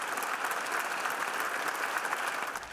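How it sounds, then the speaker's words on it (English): Applause in the Senate chamber from both sides, a dense, even burst of many hands clapping at moderate distance, steady throughout with no talk. "He was greeted by applause from both sides"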